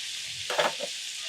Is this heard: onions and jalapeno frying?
yes